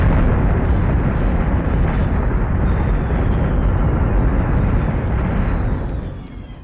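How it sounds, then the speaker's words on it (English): Incoming missiles strike ships in the Battlestar Galactica Deadlock space combat game, producing a dense, continuous roar of explosions and heavy booms that rumble for several seconds before tailing off, with no voices. "Missiles incoming!"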